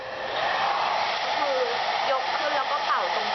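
A hair dryer blows steadily at close range while drying hair at the roots, a continuous airy roar with slight shifts in pitch as it moves.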